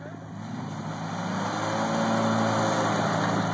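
A Nissan truck engine revs hard off-road, a loud and sustained roar that builds steadily over a few seconds, close to the recorder and with no talk over it.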